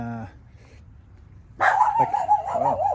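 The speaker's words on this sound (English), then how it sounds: "dog going nuts for no reason" A dog barks and yips excitedly in an indoor home setting, a loud burst of rapid, overlapping barks starting partway through after a quiet stretch.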